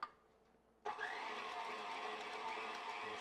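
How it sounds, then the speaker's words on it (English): An electric hand mixer starts abruptly and runs steadily, beating four eggs into a flour mixture in a home kitchen; a steady close whirring drone continues after the sharp start. "I'm going to mix this up with my handy mixer."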